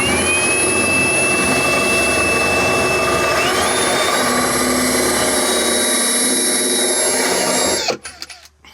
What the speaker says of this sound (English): I'm gonna line my Forstner bit and we'll drill there.